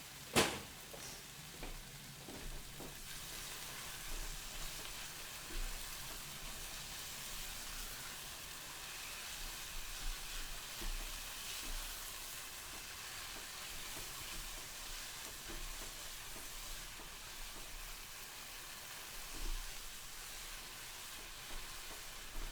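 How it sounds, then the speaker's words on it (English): Thai chilies fry in oil in a pan for a low-carb sambal, a quiet, continuous crackling sizzle with small pops, close but soft, with no talking. "You can hear the sizzling, you know, there's still some moisture in this"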